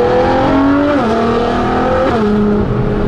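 A Ferrari LaFerrari with a straight-pipe exhaust, driven gently, gives a loud, close, raw engine drone whose pitch climbs and then drops at two quick gear changes.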